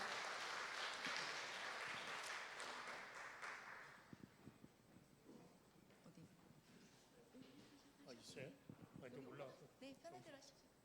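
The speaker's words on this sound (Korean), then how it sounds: "하은호 시장님 박수로 맞이해 주십시오." An audience at a residents' briefing claps loudly to welcome the mayor, and the applause fades after about four seconds into scattered claps with a voice talking.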